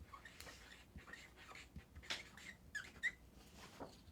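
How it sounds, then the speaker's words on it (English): A marker squeaks on a surface in a string of short, faint, high chirps and scrapes at irregular intervals, quiet and close with no speech. "I love the squeaky sound that the marker makes"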